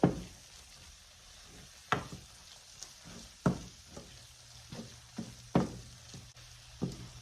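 Onions cook in a pan for French onion soup, a soft steady sizzle punctuated by several clattering stirs and scrapes of a utensil at irregular intervals, with no voices.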